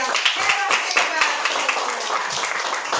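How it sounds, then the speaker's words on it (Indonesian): Rapid, fairly dense hand clapping in a class during a sixth-grade mathematics lesson on rotational symmetry, quick claps over several seconds at a moderate level and not heard alone. "Tepuk tangan untuk kita yang"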